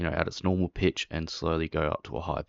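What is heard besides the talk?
No everyday noise stands out behind the speech.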